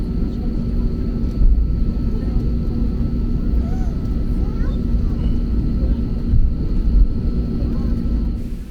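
A Spirit Airlines airliner taxiing out to the takeoff runway at Orlando airport, heard from inside the cabin as a loud, steady low engine rumble and whoosh that continues without a break.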